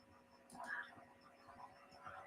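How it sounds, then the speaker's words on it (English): Frogs croaking in mating season somewhere in Africa, faint and distant, a few soft rasping calls rising over quiet background hiss. "It's just frogs mating."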